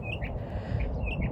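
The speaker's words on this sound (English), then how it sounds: "can you hear the birds?" Birds chirp at the Springs Preserve, a few short bright tweets repeating over a low rumbling background, fairly close and clear with no talking.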